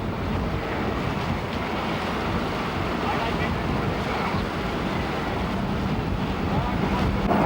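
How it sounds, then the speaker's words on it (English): Rough sea slaps and churns around a small boat while strong wind buffets the microphone in a continuous, loud wash, with a voice briefly heard over the noise. "The water's a bit rough."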